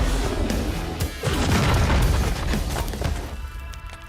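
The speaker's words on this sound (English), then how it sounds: "Explosions abound, and Fuse's ship crashes directly into Kings Canyon." Heavy booming explosions and a rumbling crash from a spaceship slamming into Kings Canyon in an Apex Legends trailer, loud and continuous with layered blasts and debris swelling through the middle before easing off.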